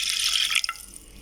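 Water is poured into a pot holding margarine and milk for a malva pudding syrup, a brief bright splashing pour that tapers off into a few small drips, with no talking.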